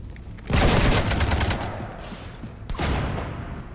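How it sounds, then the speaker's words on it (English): Rapid automatic gunfire in Mass Effect 3, a loud, dense burst of shots lasting about a second and a half, followed by a quieter lull and a second shorter barrage. "You want to stop shooting up my ship?"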